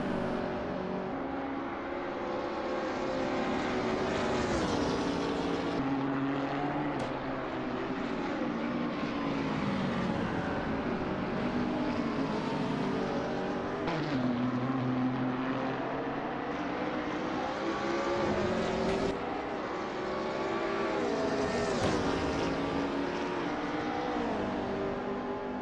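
GT3 race cars, a BMW and a McLaren, roar around the Nürburgring in a racing game, their engines whining and shifting pitch continuously as they accelerate and brake through corners, loud and sustained.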